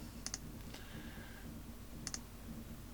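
Two short bursts of clicks, like keys being pressed on a computer keyboard while entering text in Paint, stand out over a low steady background hum, quiet and close, with no speech.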